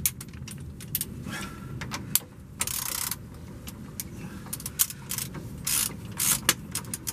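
A ratchet with socket and extension bar works loose a tight nylock nut on the rear differential of a Land Rover Discovery 2 TD5, quick clicking ratchet strokes and metallic clinks up close.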